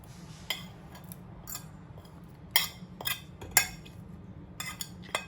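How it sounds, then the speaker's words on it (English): Chopped ingredients being mixed with eggs in a bowl for fried rice, with a utensil clinking sharply against the bowl in scattered taps and scrapes over a low steady hum, close by and without talk. "we're going to start by combining all the chopped ingredients in a bowl with the eggs"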